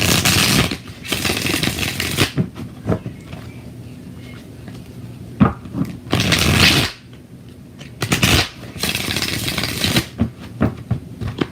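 A tarot deck is shuffled in repeated loud, rustling bursts at close range, with quieter handling noise and brief pauses between them.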